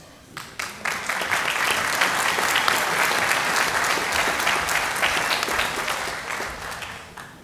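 Audience applause fills a school senior awards and cording ceremony as Drama Honor Society members are corded, a steady, dense round of clapping that swells quickly, holds for several seconds, then tapers off.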